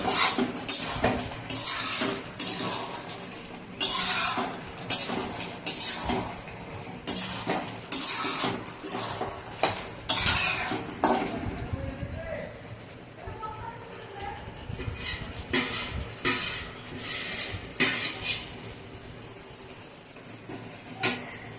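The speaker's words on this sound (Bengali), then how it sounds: "তো এরপরে এই ঢাকনাটা খুলে দেওয়া হবে এবং এটাকে মিক্সিং করে দেওয়া হবে।" Chicken curry being stirred in a pot once the lid comes off, with repeated metallic scraping and clanking of a spoon against the pot over a faint sizzle, under a person talking throughout.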